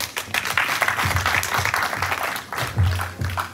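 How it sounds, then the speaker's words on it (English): Audience applause at a family reception, a steady patter of many hands clapping close by, with voices murmuring and calling out underneath. "Keep clapping."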